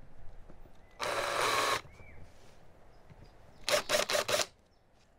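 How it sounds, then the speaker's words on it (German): A countersink bit boring into the predrilled holes of a metal turntable ring: a steady grinding whirr for under a second, then a burst of four short, loud cuts close by, with no talk. "bei dem äußeren Ring sind die Bohrlöcher nicht eingesenkt und das mache ich jetzt hier einfach mit so einem Senkteil hier"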